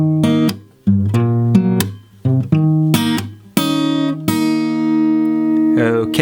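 Acoustic guitar strums and picks the chords of the first verse line of the Toy Story theme. The chords ring clearly with short gaps between them, and the last one is left to sustain and fade.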